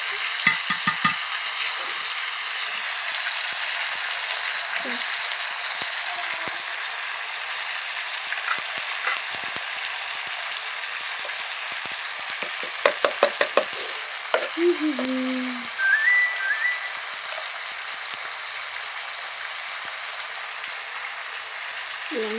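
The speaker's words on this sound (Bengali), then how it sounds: "কালকে মাংস যে রান্না করছিলাম যে ভিডিওটা আর সেটা তোমাদের শেয়ার করা হয়নি। তেল বেরোচ্ছে" Meat curry frying in oil in a home kitchen, a steady broad sizzle throughout with occasional scraping stir strokes and a brief clattering burst midway, close and fairly loud.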